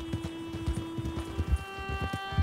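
Horse hooves clip-clop at a steady walking rhythm in Red Dead Redemption 2, close and clear, with a faint tonal hum of background music beneath and no speech.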